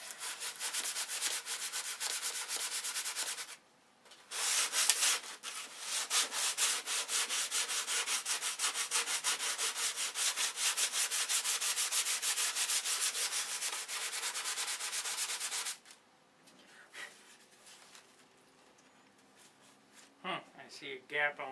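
A sanding block wrapped in 180-grit paper rubs steadily back and forth across wood, a long continuous rasping stroke with a brief pause, then stopping as a few light handling knocks follow.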